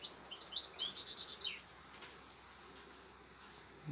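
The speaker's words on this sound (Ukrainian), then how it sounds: "Ось там пташки, синички" Bright, high chirps from tits repeat quickly for a second and a half, then stop, leaving a quiet outdoor hush at a summer apiary.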